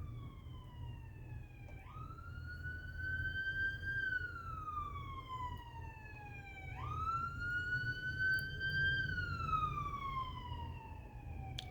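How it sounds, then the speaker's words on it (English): Ambulance and fire truck sirens wail in long rising and falling sweeps as they pass, two full cycles, fairly distant, over a low rumble of road traffic. "Okay, that was the ambulance and the fire truck"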